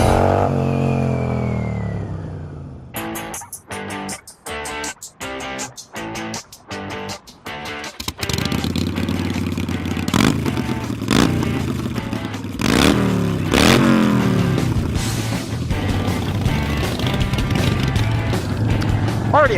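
A Harley-Davidson motorcycle with Arlen Ness by Magnaflow low-down exhaust pipes idles with a rough lumpy beat, then blips through several sharp rhythmic revs before settling into a loud, deep, sustained engine rumble with further throttle surges.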